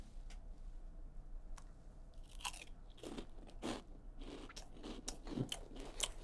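Hot Puffin Fries chips bitten and chewed close up, a series of sharp crunches with softer munching between them over a faint background hum, with no talking.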